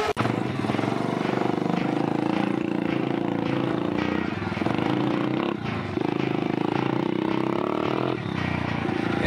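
A 110cc Doodee Charger Cop motorbike drones steadily and loudly as it is ridden, its engine note shifting with throttle and a rider's voice occasionally over it.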